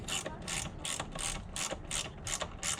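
A hand ratchet tightens bolts on a Honda CR-V with a steady run of about a dozen sharp, close clicking bursts, evenly paced and alone.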